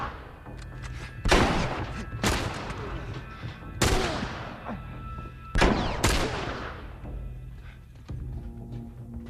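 Repeated gunshots from The Last of Us, fired in separate loud bursts with short echoing tails spread across the stretch, over a steady low game background.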